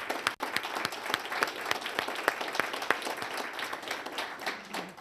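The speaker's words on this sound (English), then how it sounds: "please join me in applauding our wonderful panel here" An audience applauds a panel at the close of a discussion on the future of conservatism, with many sharp, distinct claps forming a steady, moderately loud round of applause and no talk over it.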